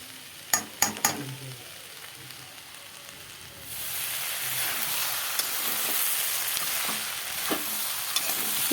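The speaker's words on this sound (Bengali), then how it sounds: "এইভাবে আস্তে আস্তে নাড়তে নাড়তে ভাজাগুলো লাল লাল করে নেব" Mixed vegetables with soybean frying in a pan as they are stirred: a few sharp utensil scrapes at first, then a steady close sizzle with occasional scrapes.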